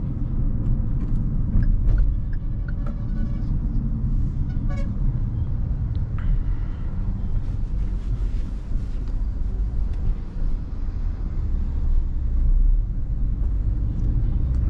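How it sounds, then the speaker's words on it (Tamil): Kia Sonet 1.2 petrol car driving at low speed in a high gear, a steady low engine and road rumble heard from inside the cabin, continuous and fairly even with some wind noise and a few faint clicks. "நான் உங்களுக்கு வந்து லோ ஸ்பீட்ஸில் வந்து ஹை கியர்ஸில் போட்டு வந்து ஓட்டி காமிக்கிறேன்"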